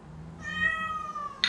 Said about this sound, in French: c'est mon chat, vous entendez